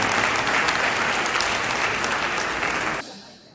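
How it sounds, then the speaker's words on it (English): A large audience at a Sankara Eye Foundation meet-and-greet in Texas gives a sustained, dense round of applause, steady and loud for about three seconds before tapering off quickly into quieter room tone. "Huge round of applause."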